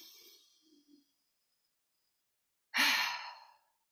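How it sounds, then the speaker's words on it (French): Breathwork breathing with a deep, active inhale and a relaxed, released exhale: a soft breath fades away, then after a pause comes one loud, close, airy sigh-like exhalation lasting nearly a second, with no talking. "je suis très active sur mon inspire et en même temps détendue, donc ça va donner quelque chose comme ça"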